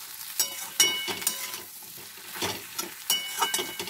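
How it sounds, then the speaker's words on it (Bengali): Ridge gourd and potato pieces stirred in a pan as they cook, a spatula scraping and clattering in uneven strokes over a soft sizzle, close by, with no talking. "পুরো নাড়তে থাকবো।"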